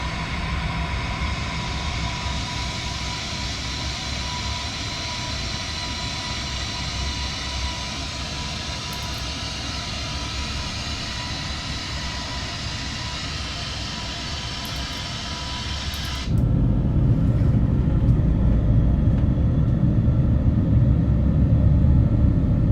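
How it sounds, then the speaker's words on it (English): Airbus A321 engine in the Fenix flight simulator game, a steady close cabin rumble beside the engine that drops into a deeper, louder roar partway through, with no talking. "Very nice rumbling sound of the engine."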